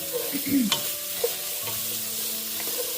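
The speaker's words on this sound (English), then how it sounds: "I'm just sauteing that down a little bit" Shredded carrots and sliced red and yellow sweet peppers sauté in a pan for a sausage stew, giving a steady, fairly quiet sizzle with a few soft stirring scrapes and clicks.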